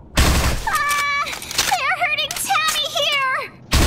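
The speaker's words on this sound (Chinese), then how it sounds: "听一下换弹音效" A female character's voiced reload callout in the shooter game CSOL2, a high, sing-song vocal line with gunfire-like bursts at the start and end.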